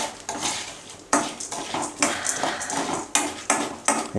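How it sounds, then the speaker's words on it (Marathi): Chana dal being roasted and stirred in a metal pan for chivda, a run of sharp clanking scrapes and knocks of the spoon against the pan, close and loud, with a soft frying hiss underneath. "जे डाळवं आहे हे डाळवं 1 मिनिटच भाजून घ्यायचं आहे"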